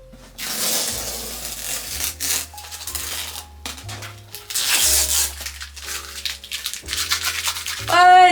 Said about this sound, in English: The fun part, the reveal of the tape removal.